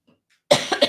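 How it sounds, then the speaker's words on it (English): A single person coughs close to the microphone in a short burst of two or three harsh, forceful hacks after a brief silence. "got a little cough in here"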